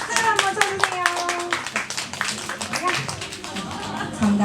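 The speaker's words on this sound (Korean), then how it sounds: "박수를 한번 쳐주세요" Brief clapping from a small audience at a live event as a prize-draw winner is called up, scattered sharp claps mixed with a voice talking over them.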